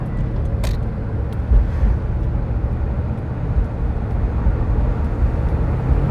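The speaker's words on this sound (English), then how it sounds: "we're going to go wide open throttle and see how much boost this thing makes" A turbocharged car engine runs at wide open throttle during a boost test, a loud, broad roar with rumbling low tones that stays fairly steady throughout, with a brief sharp hiss near the start and no speech.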